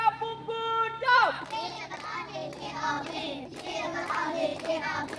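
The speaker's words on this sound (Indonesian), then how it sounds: "Boleh tepuk tangan buat Sabrina." A class of children clapping their hands together in rhythmic bursts for a classmate named Sabrina, mixed with a teacher's voice and kids chattering.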